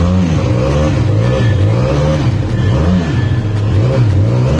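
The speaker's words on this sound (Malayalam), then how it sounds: "അതിൽ ആദ്യം തന്നെ ബെൻലി 502 എന്ന് പറഞ്ഞിട്ടുള്ള മോഡലിന്റെ സൗണ്ട് ഒന്ന് ഞാൻ ജസ്റ്റ് കേൾപ്പിക്കാം." A Benelli 502 motorcycle engine revs close by, loud and alone, its pitch rising and falling in repeated swells as the throttle is blipped.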